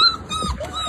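Puppies whimper in short, high-pitched whines and yips that rise and fall over about a second, close and fairly loud, with no talking.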